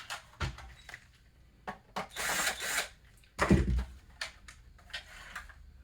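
An electric screwdriver backs screws out of a Nintendo 64 console in short whirring bursts, several brief buzzes and clicks separated by quiet gaps, close up and fairly loud.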